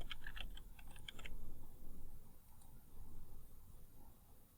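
Search terms are typed on a computer keyboard in a brief quick burst of close key clicks at the start, then a low room hum carries on.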